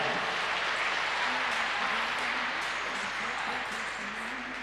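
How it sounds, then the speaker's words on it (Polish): Applause from a crowd at the Cavaliada horse show, steady and dense for nearly five seconds, with faint voices and an arena announcer's tone murmuring underneath. "a wielkie brawa na zakończenie dla Karoli Mazurek"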